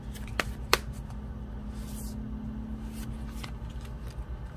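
Tarot cards shuffled during a reading, soft papery riffling close by with a couple of sharp card snaps early on, while a voice speaks briefly.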